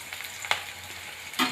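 Chopped garlic hits hot oil in a home kitchen pan while making egg tadka, giving a soft steady sizzle with two sharper bursts of spitting, close and without talk.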